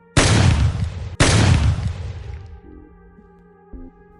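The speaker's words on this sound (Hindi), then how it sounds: "किसी ने 2 राउंड फायर किया" Two loud gunshots crack in quick succession, each a sharp broadband blast followed by a long decaying echo, then a faint low hum and a small thump as the reverberation dies away.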